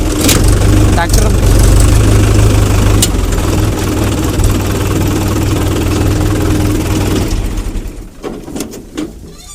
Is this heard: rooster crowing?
no